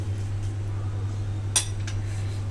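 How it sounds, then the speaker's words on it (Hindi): Fried corn and lemon juice being stirred in a pan: a spoon clinks sharply against the pan twice in quick succession, over a steady low hum. "अब इसमें हम नींबू डाल देते हैं थोड़ी सी, उसके बाद हम इसको अच्छी तरीके से मिला लेते हैं"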